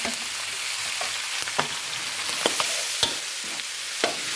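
Pork belly and bamboo shoots stir-fried in a hot pan, a steady loud sizzle with scattered sharper clacks and scrapes of the spatula, close up and without talk.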